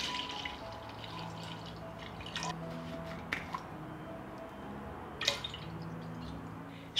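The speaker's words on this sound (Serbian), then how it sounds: "Sipaću mleko u jednu dublju šerpu" Milk is poured into a deep cooking pot, a faint, soft liquid trickle with a few small splashes and drips standing out over quiet background.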